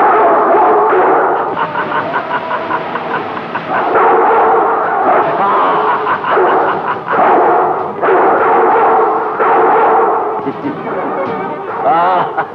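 Several dogs bark repeatedly in loud, overlapping bursts, close and continuous, in a scene from a 1993 Pakistani film, with brief gaps between volleys.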